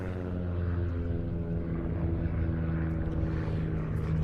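Aerobatic team aircraft make a crossing break flypast at an airshow, a steady droning propeller engine roar that holds loud and continuous with a layered hum.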